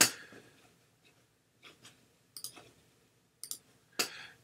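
A few sparse, faint clicks of a computer mouse spread over several seconds in a quiet room, with no talking.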